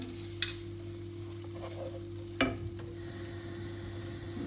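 Soaked, drained bulgur goes into a hot pan with sautéed vegetables, a faint steady sizzle under a low hum, punctuated by two sharp clinks of a spoon against the pan.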